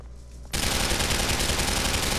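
A semi-automatic shotgun firing in Grand Theft Auto IV: a sudden burst of loud, dense gunfire cuts in after a quiet moment and continues unbroken to the end.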